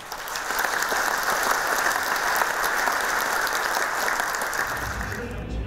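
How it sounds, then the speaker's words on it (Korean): A large university ceremony crowd at Dongguk University breaks into loud, sustained applause, a dense wash of clapping that stays even throughout and fades slightly at the very end. "큰 박수 한번 부탁드리겠습니다."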